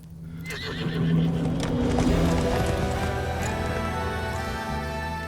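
In a Hindi action drama film, a horse neighs loudly while hooves clip-clop in a rapid, steady run, close and continuous throughout.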